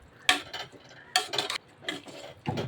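Several bursts of spoon scraping and clattering against a pot of chicken for biryani, in uneven strokes with short pauses between, close by.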